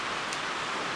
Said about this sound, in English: It's pouring rain, and we have a steel roof here in the shop, and it's making a racket.